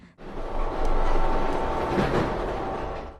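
A train travels along, its carriage giving a steady rolling rumble with faint rattles, rising after a brief quiet start.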